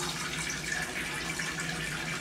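A toilet flushes in a bathroom, a steady rushing of water running continuously throughout, close and fairly loud, with no talking.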